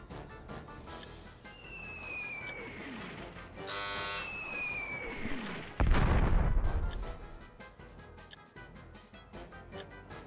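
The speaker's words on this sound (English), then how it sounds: "the mortar is still doing its job. Aye, sir. Open fire!" Mortar artillery fires in Warhammer: Dark Omen: a whistling shell trails off, then a heavy booming impact rolls out midway, loud against a murky background of battle noise.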